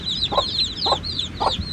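Hungry chickens clucking in a farmyard, three short bursts of clucks roughly half a second apart over a steady high chirping background, close and moderately loud with no talking.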